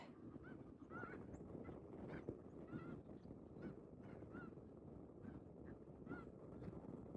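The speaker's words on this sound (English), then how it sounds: "So these are snow geese." A flock of snow geese honks continuously in the distance at the Salton Sea during winter migration, many overlapping calls over a dense, murmuring background.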